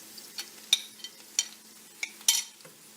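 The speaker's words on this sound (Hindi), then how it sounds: "ऑनियन डाल के तब तक पकाना है ये गोल्डन फ्राई हो जाए" Onions frying in oil until golden, with a spoon scraping and stirring through the pan in sharp, irregular clicks over a soft, steady sizzle, close and fairly quiet.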